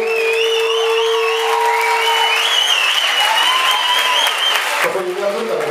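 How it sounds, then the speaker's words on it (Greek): A club audience in Kilkis applauds warmly, the clapping running under sustained musical tones and wavering instrument or voice lines that stop abruptly near the end, leaving a softer tail. "το θερμό σας χειροκρότημα για το φέτο"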